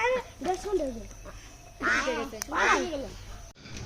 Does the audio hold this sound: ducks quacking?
yes